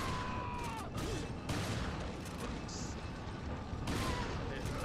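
Gunfire in the Resident Evil 4 video game, a busy run of shots and booms over a steady game soundscape, with a player's voice talking intermittently.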